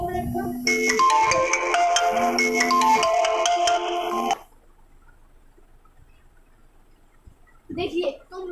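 A phone ringtone from an incoming call plays loudly as a bright, repeating melody for about four seconds, then cuts off into quiet room tone before a voice briefly resumes.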